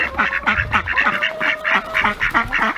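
Ducks quacking repeatedly in a steady, close chorus of nasal calls, with no other sounds.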